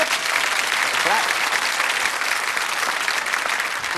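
The studio audience of the 1991 Christmas special of Big Break, a snooker TV quiz show, breaks into loud, sustained applause that fills the room evenly, with a voice faintly audible under the clapping.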